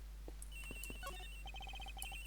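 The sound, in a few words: phone ringing in the video game Ace Attorney Investigations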